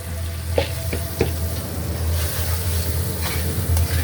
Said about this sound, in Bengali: দিয়ে দিলাম ধনিয়া জিরার গুঁড়া, মরিচের গুঁড়া, হলুদের গুঁড়া, তাহলে ভাজা নিব